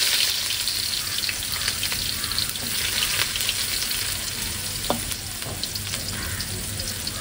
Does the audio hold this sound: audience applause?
no